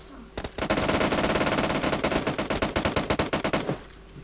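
Automatic rifle fire from PUBG Mobile: a long, loud burst of rapid shots, close and dense, then slower, spaced shots before it cuts off.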